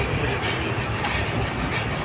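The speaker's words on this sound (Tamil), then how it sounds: "ட்ரெயினில் போயிட்டுருக்கோம்" Inside a moving passenger train, a steady rumbling roar of wheels on track fills the carriage, with a constant hiss and faint rhythmic clatter, no one speaking.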